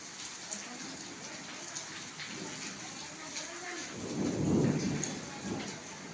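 Rain falls with a steady hiss during a thunderstorm with strong wind, and a deep rumble of thunder swells near the end before fading, with no voices over it.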